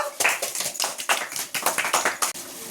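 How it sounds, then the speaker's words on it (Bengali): Children clapping together at a prize giving for a coaching class party, a burst of quick, uneven applause from a small group nearby that keeps going steadily to the end. "হাততালি দাও সবাই।"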